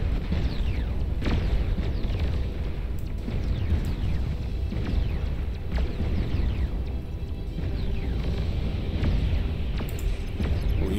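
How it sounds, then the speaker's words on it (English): Artillery shelling in the strategy game Beyond All Reason, a dense barrage of repeated booming explosions and sharp impacts at irregular intervals over a rumbling low-end battle din, no voices. "We also have enemy vanguards, the red vanguards here, shelling away from a long distance"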